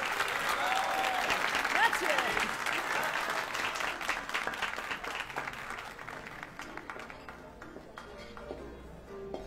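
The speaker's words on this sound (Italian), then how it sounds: "Un altro applauso per i nostri meravigliosi Tino," An audience applauds loudly after a theatrical performance, a dense, steady clatter of many hands that gradually thins and fades, with a voice briefly speaking over it.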